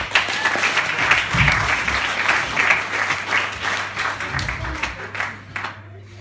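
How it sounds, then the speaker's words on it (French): A live hypnosis-show audience breaks into sustained, loud applause with many hands clapping together. It swells and holds for several seconds before tapering off at the end. "Et on peut les applaudir très fort."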